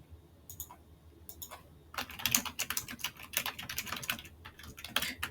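Rapid keystrokes clatter on a computer keyboard, sparse and tentative at first, then a dense, steady burst of typing with light clicks, close and clear, with no speech.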